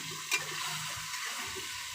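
Salted pork belly frying in oil in a home kitchen, a faint steady sizzle with a brief clatter near the start and soft stirring noises underneath.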